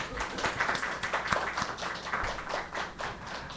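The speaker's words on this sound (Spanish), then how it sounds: "Un aplauso de bienvenida para Marilyn." Welcome applause from an audience at a Nicaraguan literary talk, a steady patter of hand claps throughout, moderately close with a light murmur underneath.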